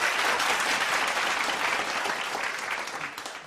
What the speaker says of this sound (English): again, let's give a round of applause.